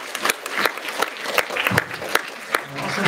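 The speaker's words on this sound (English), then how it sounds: "I think we should give them another round of applause" Applause from a live audience at a school's 50th anniversary ceremony after a student band performance: dense, steady clapping from many hands, with sharper individual claps standing out, filling the hall for about three seconds.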